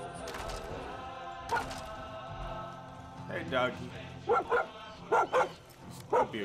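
A dog barks in a video game set in Far Cry 5, with short sharp bursts scattered through the back half, mixed with game sounds while someone talks over it.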